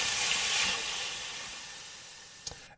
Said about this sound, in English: two effects that I stacked together right here that were just both kind of sizzling sound effects, water sizzle, pan sizzle